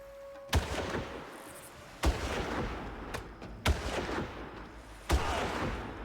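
Four heavy sniper rifle shots go off in the VR version of Far Cry, evenly spaced about a second and a half apart. Each is a loud, booming crack that trails into a long rumbling echo.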